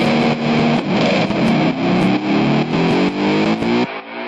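A loud, distorted electric guitar chord wavers and bends in pitch with a whammy bar, washed in reverb, ringing steadily before cutting off near the end.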